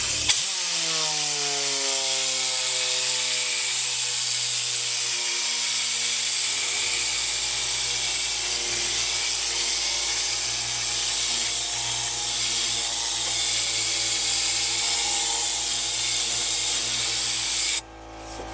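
A JOINT STARS high-pressure car cleaning gun sprays in a steady hiss over a running pump motor whose pitch winds up and settles, continuous until an abrupt stop near the end.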